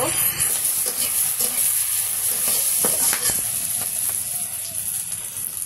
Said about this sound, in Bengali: পেঁয়াজ কাঁচামরিচ ভাজা হয়ে গেছে